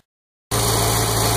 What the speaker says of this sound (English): Let's try it with the engine running.